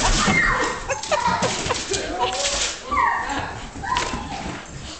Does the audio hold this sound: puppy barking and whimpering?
yes